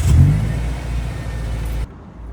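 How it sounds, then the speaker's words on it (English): A Subaru car engine idles after fresh engine oil has been added, giving a steady low mechanical hum with a brief louder start that cuts off near the end. "Now we just start the car, let the new engine oil circulate"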